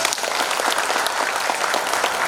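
Dense, loud applause from an Indonesian audience at an organizational gathering fills the space, a continuous close wash of many hands clapping.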